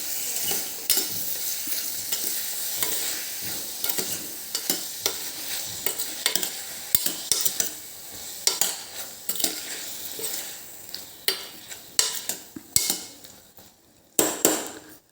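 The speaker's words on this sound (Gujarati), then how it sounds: "હવે આને એક વખત આપણે હલાવી લઈશું।" A spoon stirs bottle gourd curry with tomato and sugar in a pan, giving repeated scraping clicks and knocks over a steady sizzle, close and fairly loud, with no one talking.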